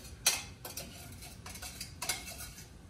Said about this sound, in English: Now you're just gonna stir everything together.